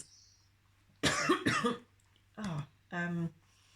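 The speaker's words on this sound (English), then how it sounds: "it's just normal cough." A few harsh coughs come close and loud, a double burst followed by two shorter ones, separated by quiet pauses.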